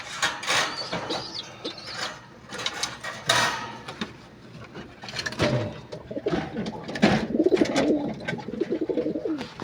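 Pigeons coo repeatedly in a keeper's flock, their throaty calls overlapping close by alongside occasional clattering and rustling.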